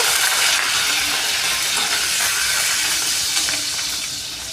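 Green chillies hit hot oil in a pan already holding cumin seeds, giving a loud, steady hiss and crackle that eases off slightly toward the end, with no talking.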